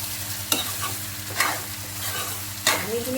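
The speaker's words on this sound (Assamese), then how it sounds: "কোমোৰা পানীখিনি শুকোৱালৈকে এনেদৰে ভাজি লৈছিলোঁ।" Ash gourd pieces fry with a constant loud sizzle as their water dries off, broken by three sharp scraping stirs of a spatula against the pan.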